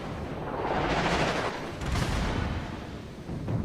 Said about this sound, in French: j'attends que tous mes canons soient alignés, je tire sur le Wyoming